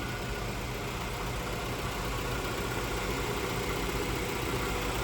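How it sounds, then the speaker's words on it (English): A 1995 Honda Integra's B18C engine with stock exhaust idles steadily at close range, a smooth, even rumble with no other sounds. "here's the B18C running"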